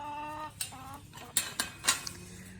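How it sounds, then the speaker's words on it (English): Chickens cluck and squawk in a farmyard pen, several short loud calls rising over a steady murmur of softer clucking, close by with no talk. "So this is chickens, only chickens."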